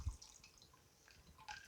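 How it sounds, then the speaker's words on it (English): Lemonade mixed with vodka is strained into a glass, giving soft, faint drips and a light trickle of liquid in a quiet kitchen. "And then I'm going to strain this into a glass."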